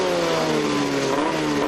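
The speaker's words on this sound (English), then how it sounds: "Snowmobile sleds at the I-500 in Sault Ste. Marie are going over 100 miles per hour on the straightaways." Snowmobile engines race at the I-500 in Sault Ste. Marie, a loud close droning whine with steady harmonic tones and slight pitch shifts as sleds speed past on the straightaway, with no voices.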